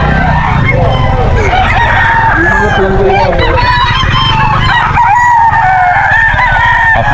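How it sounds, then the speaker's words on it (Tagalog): Many chickens and roosters crowing and clucking loudly all at once at a poultry market in Bulacan, Philippines, a noisy crowded flock with people talking in the background. "Update tayo ng mga manok pa namin."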